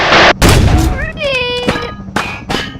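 A tear gas grenade is fired as two sharp, loud broadband blasts at the start, then later short bursts, with a voice talking in between.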